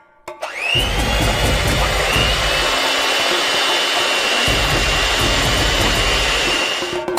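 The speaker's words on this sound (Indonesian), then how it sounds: "Jadi, kita memutuskan untuk menggunakan mixer seperti ini, yang membuat semuanya menjadi lebih baik." An electric hand mixer whips egg whites in a bowl, switching on with a sharp rise into a loud, steady high-pitched whir that holds evenly for several seconds with a slight shift in pitch partway through.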